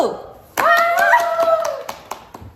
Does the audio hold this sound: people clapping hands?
yes